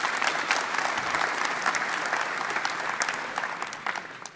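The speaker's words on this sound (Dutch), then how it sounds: "Mag ik een warm applaus voor Duncan Stutterheim" Warm audience applause at a live business event on stage, steady massed clapping at even level that tapers slightly toward the end.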